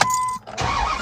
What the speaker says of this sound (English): I was starting my truck, so it might have been my truck